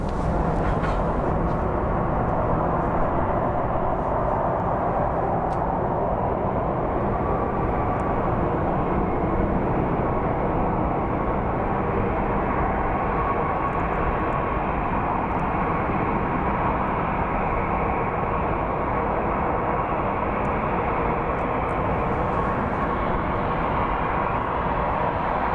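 A San Diego airliner arriving at Phoenix Sky Harbor fills the air with a steady, loud broadband jet roar that holds evenly for the whole stretch, with no voices over it.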